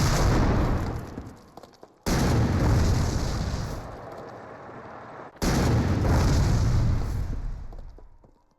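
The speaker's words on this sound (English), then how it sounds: "Bogus and his wingman fire 3 rounds into it" Three heavy tank cannon rounds boom out against a German defense line near Bastogne, each blast loud and close with a long rumbling decay before the next shot.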